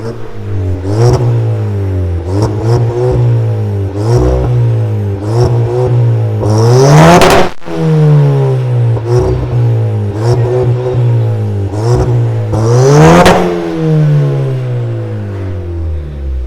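A SEAT Leon engine revs repeatedly through a sport exhaust with dual valves and sport muffler, rising and falling in loud bursts with a deep throaty note, two big peaks standing out.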